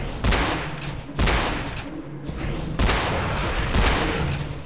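Futuristic shotgun blasts in the dinosaur shooter ORION: Dino Beatdown, four loud booming shots spaced about a second apart, each with a sharp crack and a rumbling tail.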